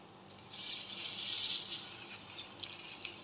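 Warm water poured into all-purpose flour for fufu, a faint, short trickling splash that rises and fades over a few seconds, with no voices.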